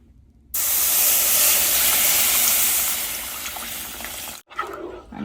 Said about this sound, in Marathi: रव्याचा कप दूध घालणार आहोत